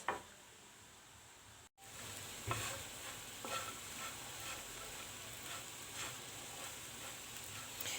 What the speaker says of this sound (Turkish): zeytinyağımızdan ilave ediyoruz. ve ekmeklerimizi güzelce kavuracağız